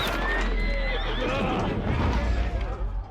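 A horse whinnies loudly in the medieval game Kingdom Come: Deliverance 2, a long close neigh over a noisy scuffle of hooves and commotion lasting about three seconds, with a voice in the mix.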